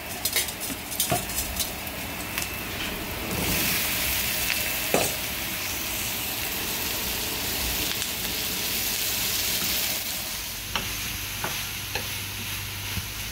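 Chicken and zucchini stir fry sizzles steadily in a pan, with frequent clinks and scrapes of a utensil against the pan over the continuous frying hiss.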